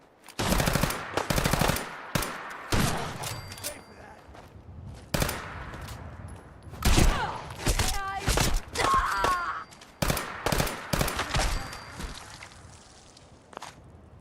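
Bursts of automatic and single gunfire in Fallout 4 come in loud, sharp volleys separated by short pauses, with footsteps, metallic clatter and scattered game effects in between.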